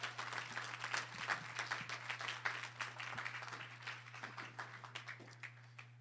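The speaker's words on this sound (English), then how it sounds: "please give a round of applause to Mr. George Charles III." An audience at a panel discussion claps for a speaker, a moderate burst of applause that gradually thins out over a constant low electrical hum.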